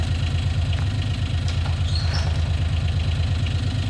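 A tractor engine idling in the Farming Simulator 19 game, a steady low rumbling drone with even pulsing throughout, loud and continuous with no talk.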